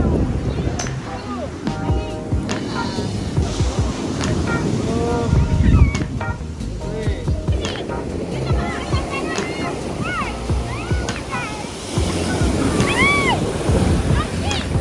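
Waves surge and wash onto the shore at San Juan, La Union, in a continuous roar with wind buffeting the microphone, while people talk and children shout nearby in the high surf.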